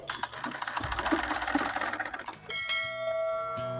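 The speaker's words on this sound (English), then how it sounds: "So I'm going to start sewing right now." A manual sewing machine stitches a straight seam in a quick run of rapid mechanical clatter, then stops, after which a ringing tone sustains for a second.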